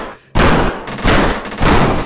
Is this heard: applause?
no